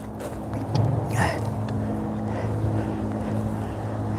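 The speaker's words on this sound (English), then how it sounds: "I'm going into the wind, so you might hear more wind noise" Steady rumble of wind buffeting the microphone on a boat heading into the wind, a low droning engine underneath and a brief louder gust partway through.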